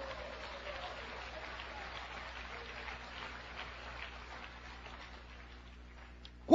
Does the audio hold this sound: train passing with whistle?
no